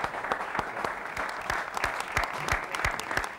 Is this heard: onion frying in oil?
no